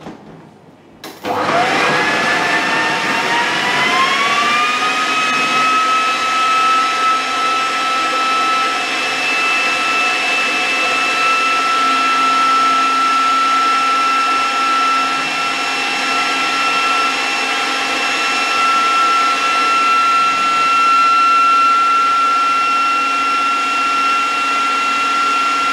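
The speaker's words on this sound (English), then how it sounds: "So I'm gonna puree this down. So literally in a food processor." Food processor pureeing kimchi into a dressing paste, motor spinning up quickly and then holding a loud, steady whirring drone for the rest of the clip, with no talk.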